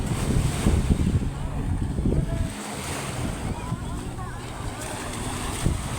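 Ocean waves washing on the shore at a beach resort, a broad, surging rush mixed with gusting wind buffeting the microphone, with a brief lull midway and voices talking in the background.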